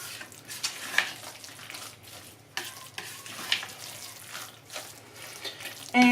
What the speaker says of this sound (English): So we're going to put in heaps of grated cheese because yum.